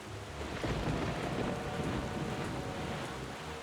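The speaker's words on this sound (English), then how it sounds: "Wait, why is it raining forever after I left the island?" Steady, dense rain with low rolling thunder in The Legend of Zelda: The Wind Waker, a continuous even downpour heard alone with no talk.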